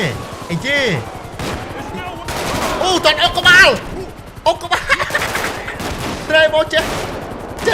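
Gunfire crackles in rapid bursts during police shootouts in the video game GTA 5. Excited talk runs over the shots throughout.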